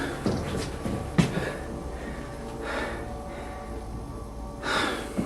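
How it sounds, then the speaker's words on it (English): A man pants heavily in a dark room, with ragged breaths and sharp gasps in uneven bursts, close and raw, set against low background noise as he walks around. "panting like he's been running"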